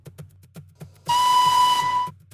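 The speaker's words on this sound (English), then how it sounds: "the whistle. The train is coming out of the rainforest up to the station." A loud steam train whistle on the West Coast Wilderness Railway in Tasmania blows one long sustained note for about a second, cutting off sharply, with a steady chugging beat before and after it.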